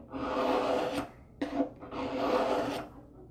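A knife blade scrapes steadily across a sharpening stone while a bevel is set, in two long rasping strokes with a short pause between them, close and fairly loud.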